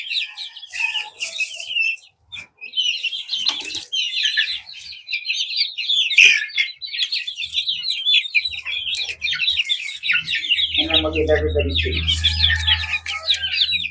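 Many small chicks, about thirty of them, chirp and tweet continuously up close in a brooder, with a hen clucking softly and someone speaking over them; a low rumble of something being moved joins near the end.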